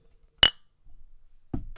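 Glasses clink in a toast: one bright, sharp chink that rings briefly, followed after a pause by a duller low knock.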